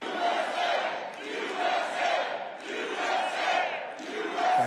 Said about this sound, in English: What a nice crowd.